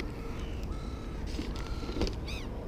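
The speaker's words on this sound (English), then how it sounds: "See, that's a different crow sound." A crow calling in a wooded area during feeding, a short caw rising above a steady hiss of background ambience, with a faint creak nearby.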